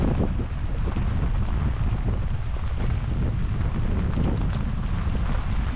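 Strong Hurricane Beryl wind, category 4, buffets a sailboat at anchor in the Caribbean, a steady loud roaring rush with low rumbling gusts and flapping that runs without pause.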